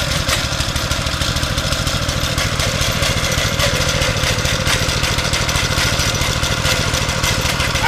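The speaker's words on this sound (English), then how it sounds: "you pull the pull starter here and it should fire up no problem" A Pacer pump's small gasoline engine runs loud and steady right after a pull start, a close, continuous rough drone with a fast mechanical chatter and no speech.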